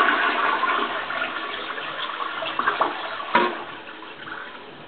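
A malfunctioning household toilet flushes with a loud rushing gush of water that gradually tapers into gurgling and refilling, heard up close with no talking.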